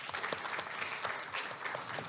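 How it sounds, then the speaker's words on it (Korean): An audience at a Korean research and administration award ceremony applauds a top-prize winner, with steady, dense clapping from a medium-sized crowd filling the whole stretch at an even level. "다시 한번 큰 박수 부탁드리겠습니다"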